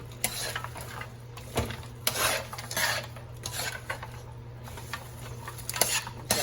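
Green beans are tossed with maple syrup, seasoning salt and pepper in a pan, giving scraping, clinking stirs in irregular bursts over a steady low hum, close by and moderately loud, with no talking.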